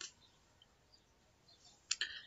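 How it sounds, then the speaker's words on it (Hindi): A computer mouse gives a quick double click near the end, a pair of sharp, close ticks after near silence, with faint small clicks scattered before. "फोटो में जाके हमें राइट क्लिक करना है"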